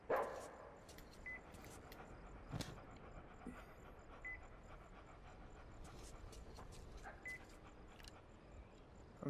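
A dog in the video game Metro Exodus pants faintly with a few short bark-like yelps over a quiet, low game ambience, with no speech.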